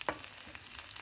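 Boiled cluster beans frying in a pan with onions and tempering spices make a close, soft sizzle broken by a quick stirring scrape.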